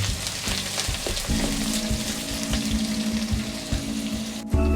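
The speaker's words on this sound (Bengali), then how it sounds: "এখন আমি পেঁয়াজ দিয়ে দিলাম। পেঁয়াজ কুচি দিয়ে ভালো করে নাড়তে হবে।" Chopped onions frying in oil for duck gravy, a close steady sizzle with scraping stirs, a low hum underneath and a brief clatter near the end.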